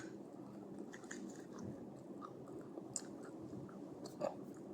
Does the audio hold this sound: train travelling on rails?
no